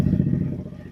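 A 150cc buggy engine fitted with a HammerHead high-performance exhaust, intake and Uni filter runs with a steady, throaty low rumble right after starting, loud and close with no talk.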